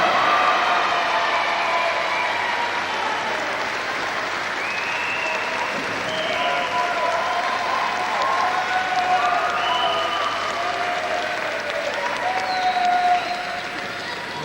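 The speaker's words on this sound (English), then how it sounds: "Hear the crowd, the northern crowd, shout for the kid there as he got that equalizing fall in the 6th" A northern crowd at a professional wrestling bout applauds and cheers after an equalizing fall in the sixth round, a loud, sustained roar with clapping and rising shouts throughout, fading slightly at the end.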